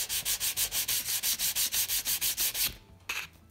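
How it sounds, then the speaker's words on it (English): 220 grit sandpaper wrapped around a file rubs back and forth across a metal surface, about fourteen quick rhythmic strokes close up, then a pause and one last softer pass. "Now I'm gonna take 220 grit sandpaper, wrap it around the file,"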